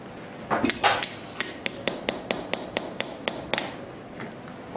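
Surgical hammer tapping during supracondylar femoral nailing, a steady series of about a dozen sharp, evenly spaced strikes, close and moderately loud, with no talk.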